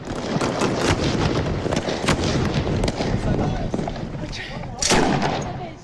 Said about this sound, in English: We're under attack. The heavy guns of ISIS are just a few hundred metres away.